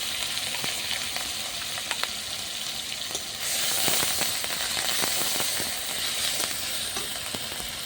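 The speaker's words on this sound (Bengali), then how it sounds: "আদা রসুন বাটাটা ভালো করে ভেজে নিয়েছি পেঁয়াজের সাথে" Onion paste with ginger-garlic paste sizzles and fries in a pan for fish and mango pickle curry, a steady close hiss with scattered crackles and stirring clicks, growing slightly louder midway, with no talking.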